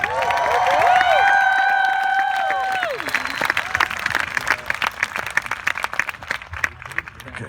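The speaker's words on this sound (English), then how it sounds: "first introduce me and Elle, and then everyone will applaud" An audience breaks into applause at an interview event with the film's writer-director and actress, dense clapping that swells after a burst of cheering and voices at the start.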